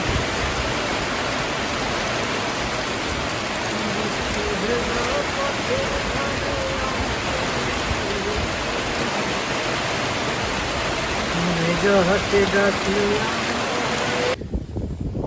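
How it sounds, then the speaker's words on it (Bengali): Steady rain hisses down on surfaces nearby near a river in North Bengal, a constant dense patter, with faint voices talking now and then beneath it. "বসে থাকতে থাকতে বৃষ্টি শুরু হয়ে গেল।"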